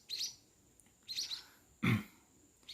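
One-week-old munia chicks chirp in three short, high bursts of thin, faint calls spaced about a second apart, with quiet gaps and a soft low thump between them.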